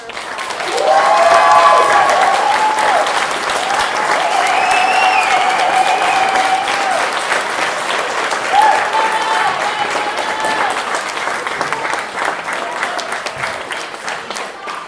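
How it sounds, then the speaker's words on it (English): Audience applause and cheering after a school Greek play performance, loud at first and tapering slightly, with raised voices and whoops mixed into the steady clapping. "please give them another applause"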